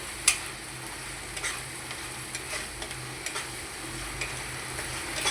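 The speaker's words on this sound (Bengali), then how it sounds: "যতক্ষণ পর্যন্ত একটা কালার না আসছে ততক্ষণ পর্যন্ত ভাজতে থাকবে" Onion paste fries in oil for a potato and bitter gourd curry, a steady soft sizzle close by with occasional sharp spatula scrapes and taps against the pan.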